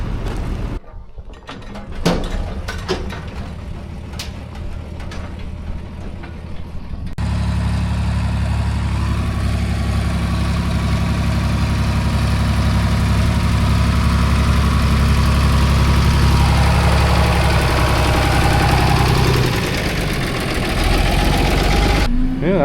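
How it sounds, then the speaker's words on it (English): A grain auger running at a plugged grain bin: after some clattering and knocks, a loud, steady mechanical drone starts up and holds, its pitch wavering slightly. "Yeah, that was the auger."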